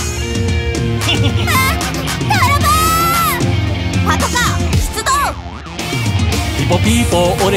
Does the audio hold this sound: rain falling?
no